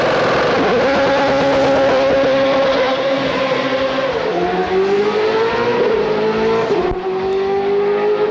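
A BMW M3 GTR race car with only small mufflers revs hard nearby, its loud engine howl rising and dipping through gear changes for several seconds, with no talk over it.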